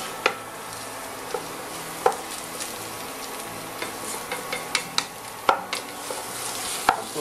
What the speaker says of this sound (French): on touille tranquillement